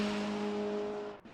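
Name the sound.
GT-MX Macca V8 race car engine in Assetto Corsa video game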